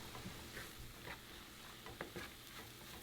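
Taco slaw of cabbage with lime juice and mayo is stirred in a bowl, giving soft, wet squelching and scraping sounds in quiet bursts, close by.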